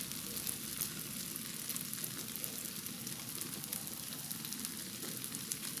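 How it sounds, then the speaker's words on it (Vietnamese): Fresh tofu skin fries in hot oil in a pan, a continuous soft crackling sizzle with scattered pops, close and steady, with no talking. "đừng chiên nó vàng quá nó sẽ dễ bị khét ha"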